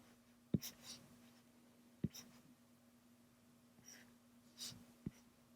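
Pen lines being drawn on paper for a stick figure, heard as a few short, quiet scratchy strokes spaced a second or so apart over a faint steady hum, with soft breathing between strokes.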